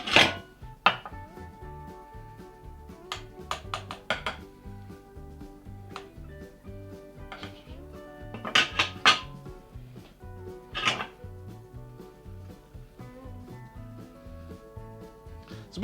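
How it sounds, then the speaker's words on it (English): A knife cuts through a slice of tiramisu, with sharp clinks of utensil on dish and scraping taps scattered across a quiet kitchen, some louder knocks in clusters. "let's cut a slice"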